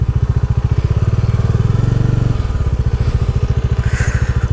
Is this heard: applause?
no